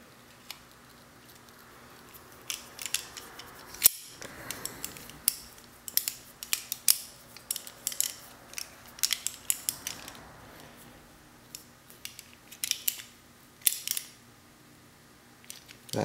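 An Allen key tightens a fitting during a car amplifier and subwoofer install, giving irregular close metallic clicks, taps and clinks scattered over a quiet background.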